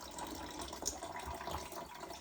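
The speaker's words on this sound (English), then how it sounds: "We'll even let the liquid drip out for a second." Cold brew coffee liquid draining and dripping out of wet coffee grounds, a soft continuous trickle of liquid with small splashy drips, close and faint, with no talking.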